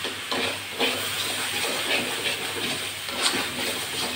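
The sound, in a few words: green amaranth leaves being stir-fried in a pan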